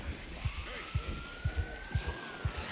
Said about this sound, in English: Okay, now I hear a siren again.